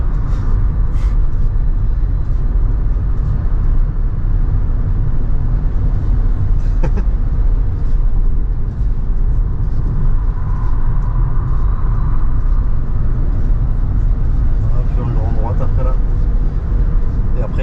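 A Tesla Model Y driven on the Nürburgring, its low steady road rumble and tyre roar continuing throughout the interior, under almost constant conversation among the occupants.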